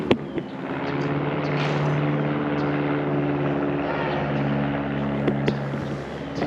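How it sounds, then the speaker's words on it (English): A propeller airplane drones overhead with a steady humming engine tone that swells slightly and then eases, alone without speech. "check out this plane."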